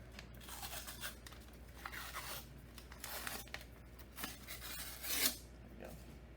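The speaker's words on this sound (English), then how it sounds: "You need to peel off the wrapper." Paper wrapper being peeled off a cardboard tube of refrigerated crescent roll dough, a soft tearing rasp in short uneven strokes with one sharper rip near the end, close and quiet with no voice.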